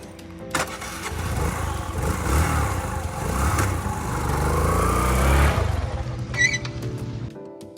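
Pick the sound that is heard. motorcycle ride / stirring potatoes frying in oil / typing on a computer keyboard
motorcycle ride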